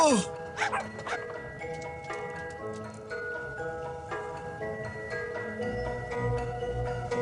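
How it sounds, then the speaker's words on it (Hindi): A puppy in a Hindi-dubbed fantasy film gives a short whimper and yelp near the start, then the rest sits under a steady music score with tinkling chimes. "मंगू, ये प्यारा सा पपी सम्राट है।"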